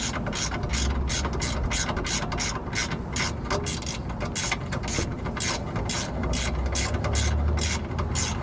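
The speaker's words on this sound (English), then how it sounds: "So I'm going to go ahead and use a 17mm wrench." A 17mm ratchet wrench working a bolt on the rear end link of a Subaru Outback, close and loud, with rapid rhythmic clicking in steady bursts alternating with brief pauses.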